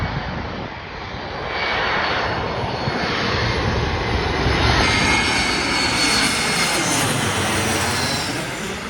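A heavy jet airliner roars past at O'Hare airport, a loud, sustained broadband engine rumble that swells and holds steady with a shifting whine across the whole stretch, no voices.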